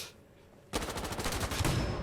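Automatic gunfire in the tactical shooter Insurgency Sandstorm erupts after a quiet moment, a loud, rapid burst of repeated shots that continues without pause to the end.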